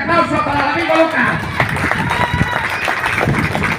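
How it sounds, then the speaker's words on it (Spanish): Loud, dense applause and clapping from a crowd at an outdoor gathering in Lázaro Cárdenas, El Cerro Gordo, rising after a voice at the start and holding steady to the end. "¡Fuerte aplauso para el amigo Lucas!"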